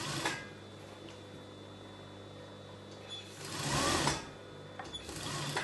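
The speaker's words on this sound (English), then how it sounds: "continue to sew half an inch" A sewing machine runs steadily while stitching the seam of a circle skater dress, a continuous close whir that swells louder for a moment near the end with brief pauses between.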